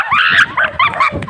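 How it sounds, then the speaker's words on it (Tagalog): Several dogs yip and whimper in quick, overlapping bursts close by, loud and excited, with a person talking over them at the same time. "Maraming aso!"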